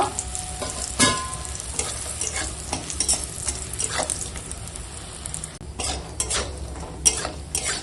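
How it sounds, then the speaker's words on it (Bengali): Bori lentil dumplings fry in oil left from frying fish, giving a constant close crackling sizzle. Occasional clinks and scrapes of a utensil stirring the pan come through, and no one speaks. "ওই মাছ ভাজার তেলেই এখন বড়ি ভেজে নেব"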